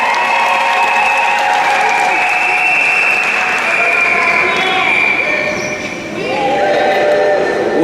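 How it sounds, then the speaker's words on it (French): Congregation applauding steadily at a church wedding ceremony, a dense, loud wash of clapping that runs throughout, with a brief dip near the end while voices carry over it. "acclamons le Seigneur"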